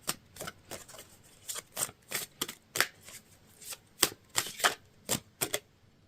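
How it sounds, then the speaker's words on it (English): Tarot cards being shuffled by hand at close range in a quiet room, a steady run of crisp riffling bursts with brief pauses between them. "as I'm shuffling out these cards"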